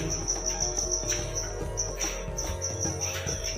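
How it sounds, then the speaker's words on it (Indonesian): Crickets chirp in a dark, empty room of an old fort, a loud, shrill pulsing trill that repeats in quick bursts with brief gaps, close by and alone. "dan banyak suara jangkrik"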